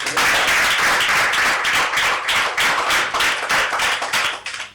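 An audience claps during a public speech, with loud, fast, dense clapping that pulses in waves and tapers off at the end.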